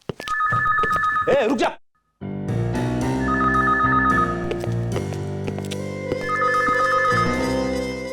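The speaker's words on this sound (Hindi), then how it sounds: "मेरी वाइफ का फोन है।" A mobile phone rings in repeated bursts of bright electronic trills, with music playing underneath and a voice speaking briefly before a short silence.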